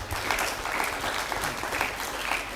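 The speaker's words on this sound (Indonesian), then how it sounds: "Kita berikan tepuk tangan" Steady audience applause after a talk show closing at a school event, dense clapping filling the whole stretch at moderate level with no talk over it.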